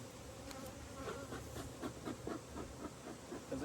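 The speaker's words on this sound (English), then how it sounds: "So all these bees are kind of lost." Honeybees buzz around an opened hive during an inspection, a soft continuous swarm hum with individual bees droning close past, steady and fairly quiet, with no talking.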